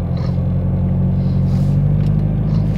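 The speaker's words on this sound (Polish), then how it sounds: "Policaj gdzieś jedzie." A police car drives past on a street in Białystok at dusk, a steady close engine rumble with a low droning tone that holds for the whole stretch without rising or fading sharply.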